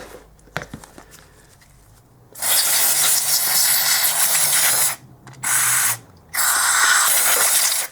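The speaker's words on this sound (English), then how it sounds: "brake cleaner." Aerosol brake cleaner is sprayed on a Honda CG125 cafe racer motorcycle in three loud hissing bursts: a long blast, a short one, then another long one. Light mechanical clicks come before the spraying.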